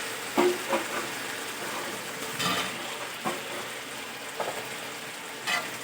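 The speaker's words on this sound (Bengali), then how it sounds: "এই পর্যায়ে আমি দিয়ে দেবো ভেজে রাখা আলুগুলো।" Fried potatoes tipped into a pan of spices sizzling in hot oil for a rui fish curry with cauliflower, a steady frying hiss broken by several sharp clatters and scrapes of stirring, close and fairly loud.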